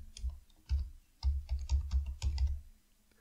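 Keys on a computer keyboard are tapped in short bursts, close and fairly quiet, with clustered clicks separated by brief pauses as a name is entered.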